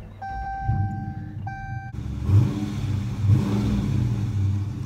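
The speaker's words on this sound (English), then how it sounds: "I want to see if you guys can hear this fucking car when it starts up." Car engine starting up after a few chime tones, then a loud low rumble that revs in a couple of surges, close by and alone without talk.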